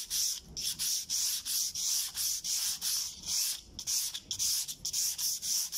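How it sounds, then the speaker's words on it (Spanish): Sandpaper rubbed by hand along the grain of a small bare wooden moulding before water-based varnish is applied, a steady series of quick raspy back-and-forth strokes, close and fairly loud, with no talking. "lijar el moldecito al sentido de la veta de la madera"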